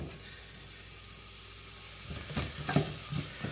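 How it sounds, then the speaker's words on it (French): Onions cooking in a pan: a steady soft sizzle, then a few close scraping stirs and clacks of a utensil against the pan toward the end. "Une fois que les oignons ils ont commencé un peu à cuire"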